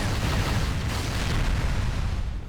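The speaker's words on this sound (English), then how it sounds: "I think the grunts already exploded." Explosions from grunt enemies in the Halo video game, a loud, continuous booming rumble with heavy low end that sustains for a couple of seconds.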